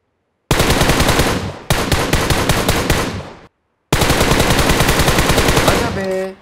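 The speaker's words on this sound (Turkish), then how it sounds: "İyi de mermi attım da kaçırdım ya." Automatic gunfire in PUBG Mobile, three loud sustained bursts of rapid-fire shots with short silent gaps between them, close and clear.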